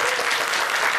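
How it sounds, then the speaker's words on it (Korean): Lecture audience in a Korean TV studio bursting into dense, even applause, a loud, continuous patter of many hands filling the brief moment. "오늘 강연 박수로 한번 청해 보도록 하겠습니다"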